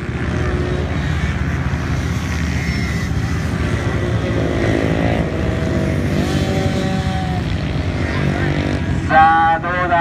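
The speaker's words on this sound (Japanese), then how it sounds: "ストレートスピード生かしてくるのか、スクーター、2ストロークのスクーター、速い速い速いですね。" High-pitched buzzing two-stroke engines of small racing scooters whine continuously at close range on a hillside circuit, while an excited commentator talks over them in Japanese.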